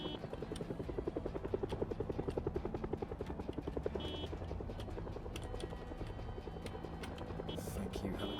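Helicopter flying overhead in the zombie survival game Project Zomboid, a loud steady rotor chop with rapid rhythmic thumping that holds throughout, with faint game effects in the background.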